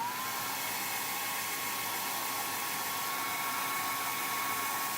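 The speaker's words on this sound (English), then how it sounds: "we got the hair dryer going on" A hair dryer runs steadily and close by, a continuous loud airy whoosh with a faint whine, holding at one level throughout with no talking.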